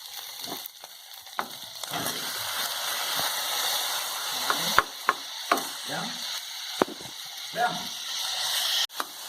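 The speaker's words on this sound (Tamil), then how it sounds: "இப்போ தக்காளியை போடலாம்." Tomatoes hit a hot pan already holding sautéed ginger-garlic paste for a mushroom biryani, giving a continuous loud sizzle and hiss broken by sharp clicks and scrapes of a spoon stirring against the pan.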